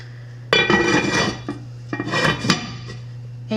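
A lid set onto a pot of pot roast, with a few close metallic clanks and scrapes in short bursts over a steady low hum in a quiet kitchen.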